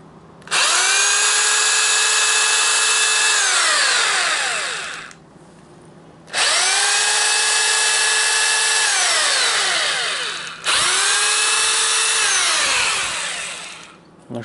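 A power drill driving screws into parts of a smartphone rig, with three long whining bursts that ramp up and wind down, separated by short pauses, loud and close.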